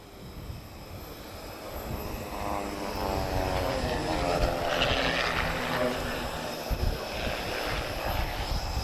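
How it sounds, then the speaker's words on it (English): A Pitts S2 aerobatic display aircraft, built in 1993, flies at an airshow in Portugal, its propeller engine droning steadily and swelling louder mid-pass under distant crowd noise. "the Pitts S2, one of the most famous display aircraft of all time"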